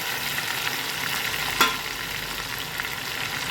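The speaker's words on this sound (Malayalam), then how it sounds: "ഇളക്കി കൊടുക്കും നന്നായി മൂക്കണം" Ginger garlic paste and green chillies frying in a pan for a green mango pickle: a continuous close sizzle with one brief sharp clatter of stirring partway through, no voices.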